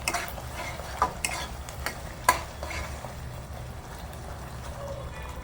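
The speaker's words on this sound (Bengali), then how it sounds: "এইবার আমি পনিরগুলো যেটা রয়েছে ভাজা এবার এটার সঙ্গে দিয়ে দেবো।" Fried paneer being stirred into oily, sizzling masala in a pan, a faint steady sizzle with occasional light scrapes and clinks of a spoon, no talking.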